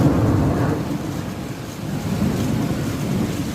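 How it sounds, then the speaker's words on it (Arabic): Heavy rain pours in Riyadh with a deep rumble of thunder, a dense low roar of rainfall and distant rolling booms that fill the whole stretch without any voices. "بيجي معاه المطر الشديد دي، بيجي معاه الرعد"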